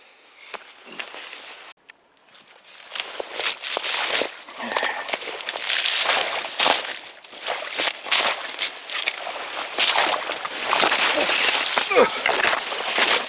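Hunter's boots wading and sloshing through shallow marsh water among cattails, close and continuous splashing steps with rustling, while voices talk now and then.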